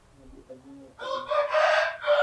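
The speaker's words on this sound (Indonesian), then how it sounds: "Nah, tuh kan jelas suara ayam kan" A rooster crows once in a village setting, a loud, near, drawn-out call rising over a faint low voice and background murmur at the start.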